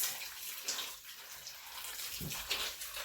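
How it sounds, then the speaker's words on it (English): Hot water poured into a cooking pot for a Nigerian-style dish with crayfish, oziza seed, scotch bonnet and ogiri, heard as a close, continuous splashing pour with a soft bubbly wash throughout. "So I will pour in hot water in it"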